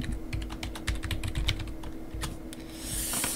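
Rapid, uneven clicking of computer keyboard keys as a database password is typed, close and crisp, a burst of keystrokes with brief pauses and no talking.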